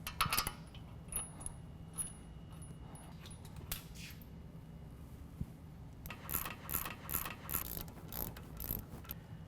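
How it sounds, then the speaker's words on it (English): Brake rotor and caliper being fitted to a 2015 Ford F-150 during a suspension lift install, with quiet metallic clicks, clanks and scraping of parts and tools, some bursts of rattling near the end. "We're going to install the rotor and caliper at this time."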